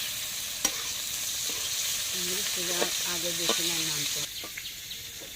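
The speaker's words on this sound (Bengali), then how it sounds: "এদিকে আমরা ডাল রান্না করতেছি" Dal sizzles and bubbles steadily in a pan close up, with brisk stirring throughout and a few faint bird chirps in the background.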